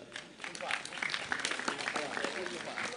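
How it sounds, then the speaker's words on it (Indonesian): A gathering's audience claps in a loose, uneven patter at moderate volume while voices keep talking and calling out over it. "Sekali lagi tepuk tangan"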